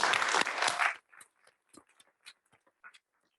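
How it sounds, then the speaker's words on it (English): Audience applause at a school underform awards ceremony, a dense burst of clapping lasting about a second before cutting off, followed by a few scattered, faint individual claps. "Let's give them one more round of applause"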